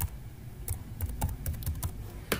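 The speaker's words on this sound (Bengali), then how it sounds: "সেই অ্যাড্রেসটা একবার এখানে টাইপ করে দেবেন" Keys clatter on a computer keyboard as an address is typed into an online deed download form, a quick uneven run of close, soft clicks with one sharper tap near the end.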